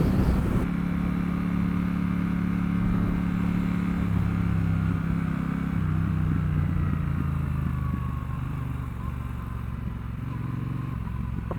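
A 2021 Triumph Bonneville Bobber 1200 accelerates steadily through its gears, the engine's loud continuous drone climbing and dropping in pitch with each shift, heard up close from the rider's position with no talk.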